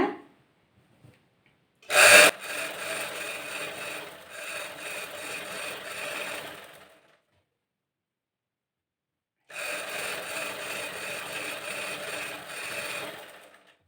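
A sewing machine stitches a chudithar pant in two bursts of steady, moderately loud whirring needle runs separated by a few seconds of silence, with a sharp knock just before the first burst.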